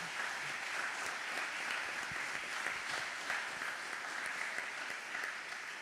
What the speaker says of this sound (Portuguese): Dê um aplauso a Jesus pela vida desse povo.